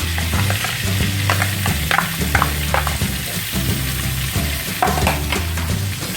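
Spring onions frying in margarine in a pan for village-style fried rice, a loud, continuous close sizzle with scraping stirring strokes throughout and no talking.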